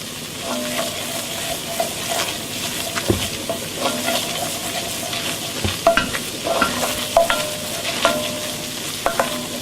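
A flour roux bubbles and sizzles steadily in a pan while it is stirred, with soft scraping strokes and occasional clinks over the continuous frying hiss.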